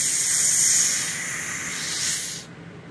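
Air hisses steadily out of a Vevor bag air jack, a loud bright rush that eases and swells slightly before cutting off abruptly near the end.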